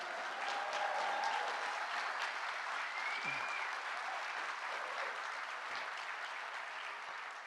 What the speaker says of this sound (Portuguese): novamente pedir uma salva de palmas